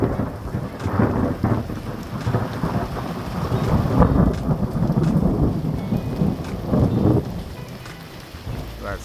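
Heavy rain pours steadily during a thunderstorm on a road trip toward Santa Cruz, with rumbling thunder swelling and receding throughout under a constant loud hiss of rainfall.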